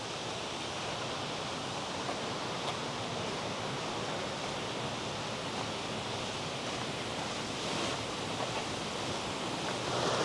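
Waterfall on a hike, a constant broadband rush of falling water at steady moderate level with no voices.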